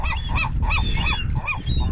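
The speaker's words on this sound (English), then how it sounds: "Man, look at these crazy seagulls flipping out." Seagulls diving for chicken bait while crabbing keep up a rapid run of loud, harsh squawks, about six calls in two seconds, close by.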